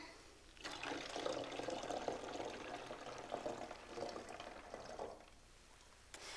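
Three-quarters of a cup of warm water pours into a homemade volcano mixture, a steady, close splashing stream that starts abruptly, runs for several seconds and then stops.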